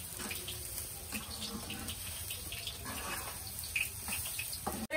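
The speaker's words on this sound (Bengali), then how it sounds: "ঝরঝরে করে ভেজে নিয়েছি, এবার আমি পরিমাণ মতন জল দিয়ে দেবো" Water being poured into a pot of fried pulao rice gives a faint, steady running-water hiss with light splashing for about five seconds, quiet and close with no talk.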